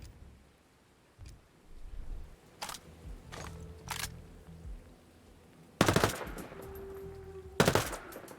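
SMG fitted with a compensator firing in the video game Ghost Recon Breakpoint: a few sharp isolated shots, then two loud, distinct bursts over quiet rainy ambience.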